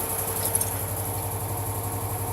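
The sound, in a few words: car engine idling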